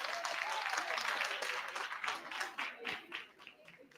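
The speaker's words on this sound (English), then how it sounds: "Please clap hands for them." An audience at a youth festival in Africa clapping for a group, a brisk burst of many hands that is fairly loud at first, then becomes uneven and tapers off with some chatter underneath.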